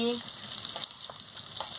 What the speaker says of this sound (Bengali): তেল গরম হয়ে গেছে আমি পেঁয়াজ কুচিটা দিয়ে দিচ্ছি